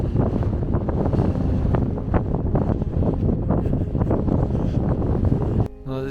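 Strong wind gusts roar steadily across an open mountain pasture in the Savinja Alps, a loud, continuous buffeting on the microphone that drops off abruptly near the end.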